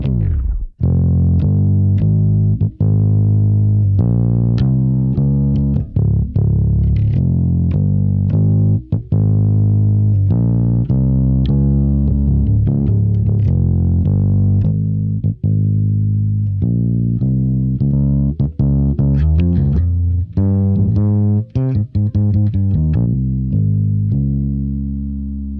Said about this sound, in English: I've purposely gone for this sound. Like I want a dirty bass tone.